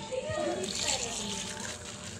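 Water splashes and gushes steadily into a cooking pot of nilagang pata, a continuous pouring wash close by with some background voices.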